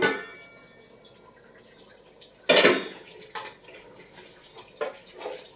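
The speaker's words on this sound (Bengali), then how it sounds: "এখন একটু দেখে নেই কি অবস্থা মাংসটা, নাড়াচাড়া করে নিই একটু" Duck meat is stirred in a cooking pot: one loud scraping clatter of utensil on metal, then a few softer scrapes and knocks spaced out over the following seconds.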